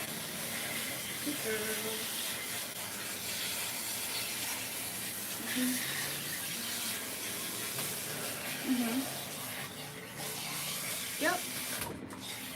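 Water sprays to rinse a cat during a lion-cut grooming session, a soft continuous hiss running throughout, with someone briefly speaking over it.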